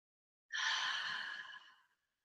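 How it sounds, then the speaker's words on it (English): One long, breathy exhale lasting about a second and a half during a breathing practice, soft and close, trailing off into silence with no talking. "I'm going to take a few deep inhales. A few deep exhales."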